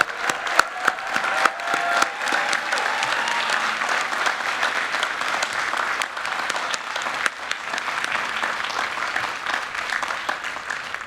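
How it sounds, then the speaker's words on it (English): A crowd at a graduate degree ceremony applauds steadily for several seconds, a dense patter of claps with a few sharper individual claps standing out, no voices over it. "Let's have a round of applause for our PhD recipients."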